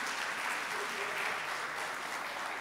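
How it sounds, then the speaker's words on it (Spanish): Steady, even applause from a workshop audience in Encarnación, Paraguay, filling the whole stretch at moderate loudness with no voices over it. "Les damos un aplauso"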